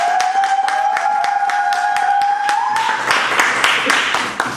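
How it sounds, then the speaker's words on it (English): An audience claps for an honorary member at a fall 2009 proshow: scattered sharp hand claps over a steady held tone swell into denser, louder applause after a few seconds. "Let's clap it up for Sister Rush."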